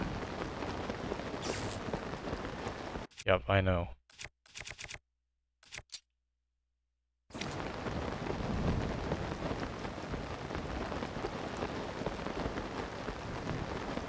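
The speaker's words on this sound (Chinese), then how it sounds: "又是雷雨啊" Steady rain hisses throughout a thunderstorm in the game The Legend of Zelda: Tears of the Kingdom, broken midway by several seconds of clicks and near silence before the downpour resumes.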